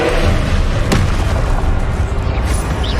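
Incendio fire spell cast in Hogwarts Legacy, heard as a loud, sustained booming burst of fire and game effects, with a sharp crack near the start amid dense, constant noise.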